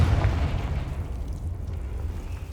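Confringo spell blast in Hogwarts Legacy, a single deep booming explosion at the start that rumbles and fades over a couple of seconds, loud and alone.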